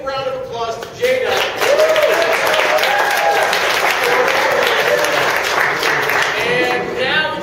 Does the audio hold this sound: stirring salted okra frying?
no